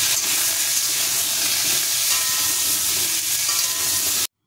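Mango pieces with salt fry in a pan, a steady loud sizzle and hiss that runs alone and without pause, then cuts off abruptly.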